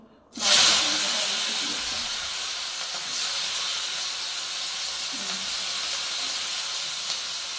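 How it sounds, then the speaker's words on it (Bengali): Potatoes dropped into hot oil in a wok set off a sudden loud hiss that settles into a continuous close sizzle of frying. "এই যে এখন বোন আলু ভাজাটা ছেড়ে দিচ্ছে"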